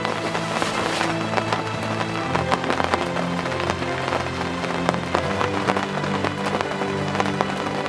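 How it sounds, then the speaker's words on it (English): Steady rain falls on a summer carp-fishing spot, a dense patter of drops with sharper taps scattered throughout, close and continuous with no talk. "wait for the rain to let up"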